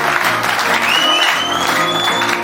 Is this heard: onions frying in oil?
no